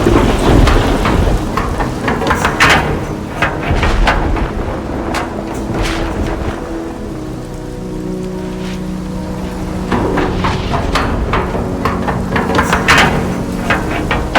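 A heavy storm with steady pouring rain and deep rolling thunder rumbles, loud and continuous, with no voices present.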